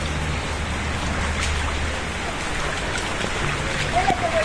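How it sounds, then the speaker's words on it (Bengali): Steady rain falls during a cyclone storm onto a garden where an eggplant plant stands, a continuous even hiss with faint drips, and someone speaks briefly over it. "দেখেন বৃষ্টি আবার নামছে"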